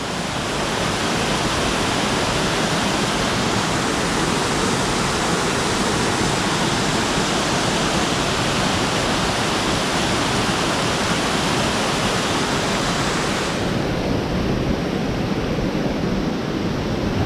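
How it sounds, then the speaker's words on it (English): A small woodland waterfall at Steele Creek Park, rushing in a steady, dense broadband roar that stays close and constant throughout, with no voices. "I know it's not a big, tall waterfall, but it's a waterfall nonetheless"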